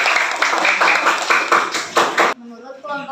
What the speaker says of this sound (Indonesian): tepuk tangan untuk kelompok kita